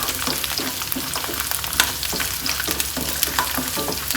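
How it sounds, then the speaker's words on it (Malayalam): Garlic and dried red chillies fry in a pan with a steady, close sizzle, broken by soft clinks and stirring scrapes. "നമ്മുടെ വെളുത്തുള്ളിയും ഉണക്കമുളകും നല്ലതുപോലെ വഴന്ന് കിട്ടിയിട്ടുണ്ടേ"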